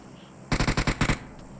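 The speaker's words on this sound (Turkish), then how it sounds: "Benim zaten PUBG'de en sevdiğim silah M4" M4 rifle in the video game PUBG firing a rapid burst of about six shots, loud and close, in a quick even rhythm.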